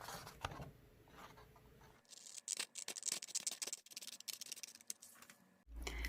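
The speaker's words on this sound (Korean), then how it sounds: "여기는 가위로 자를 겁니다." Scissors cutting fabric for a bonnet hat, a quiet closed-in stretch followed by a few seconds of dense crisp snipping and rustling close to the microphone.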